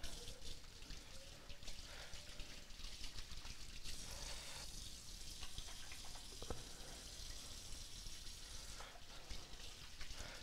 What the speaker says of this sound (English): First thing is let me wash my hands.